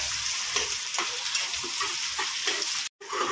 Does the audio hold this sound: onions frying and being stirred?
yes